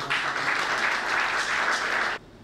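Steady, dense applause from an audience at an awards ceremony, loud and continuous for about two seconds before it cuts off abruptly, with no voices over it.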